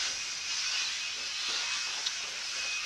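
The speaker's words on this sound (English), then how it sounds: "Sorry for the noise, my neighbors are repainting." Spray painting nearby makes a constant, hissing spray noise without pause, broad and airy with little low end, steady in level throughout.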